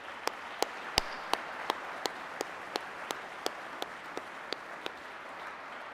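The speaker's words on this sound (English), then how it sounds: "Please, a round of applause for them." Steady, evenly spaced handclaps from what sounds like only one or a few people at a chamber of commerce awards dinner, sharp and fairly faint, tapering off over several seconds against a quiet room hum.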